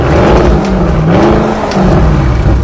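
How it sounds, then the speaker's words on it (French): A 600-horsepower Audi RS7 V8 with an Akrapovic exhaust revs loudly and close, giving a continuous throaty roar with rising and falling engine pitch and no voices. "Grâce à son kit d'échappement Akrapovic, elle a un son juste magnifique."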